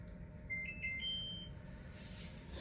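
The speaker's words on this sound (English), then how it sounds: "And it goes beep, beep." An air fryer gives a short run of high electronic beeps, fairly faint over a low background rumble, then falls quiet.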